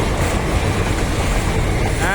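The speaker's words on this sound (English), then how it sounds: "See, all together 3 trains running." Three trains run together on parallel railway tracks, making a loud, continuous rumble and rattle close by, with no clear breaks.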